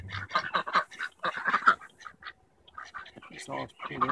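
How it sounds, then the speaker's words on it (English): Ducks being fed at Penn State Beaver, with a burst of loud, close quacking and honking calls that come in quick clusters, then stop briefly before resuming. "We were feeding the ducks in Penn State."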